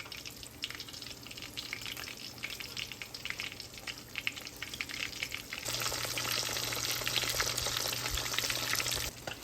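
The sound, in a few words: fish fillets deep frying in oil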